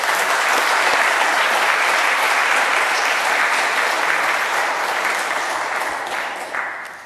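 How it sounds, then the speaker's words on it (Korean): Korean church congregation applauds in a sanctuary, loud sustained clapping from many hands that holds steady and then fades out near the end. "우리 박수하겠습니다."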